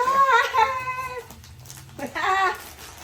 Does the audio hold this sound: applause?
no